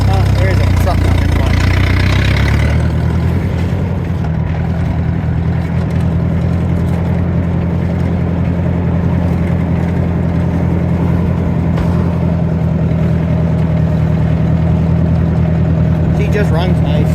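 A Ford 620 tractor fitted with a Sherman forklift drives along a road, its engine running loud and steady throughout after an initial shift in pitch.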